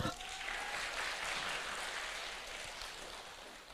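A church congregation in Melbourne claps during a Sunday service, a broad wash of applause that swells at the start and slowly fades over a few seconds.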